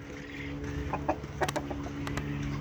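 Chickens cluck softly against a steady background hum, with a few sharper bird calls and clucks bunched in the middle of the clip.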